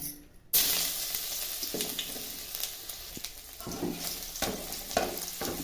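Grated ginger and two cloves of garlic sizzle steadily in hot oil on low heat, a continuous close crackle after a sudden loud start, with occasional scraping stirs.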